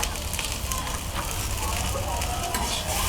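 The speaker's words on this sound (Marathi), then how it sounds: "या ठिकाणी आपण आता कांदा पण परतून घेतोय." Onion sautés in a pan along with roasted whole spices, a loud, close, constant sizzling crackle with a voice faintly present beneath it.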